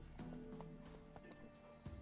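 Hooves clip-clop in an uneven gallop as Roach the horse runs in The Witcher 3: Wild Hunt, with a couple of sharper hoof strikes standing out.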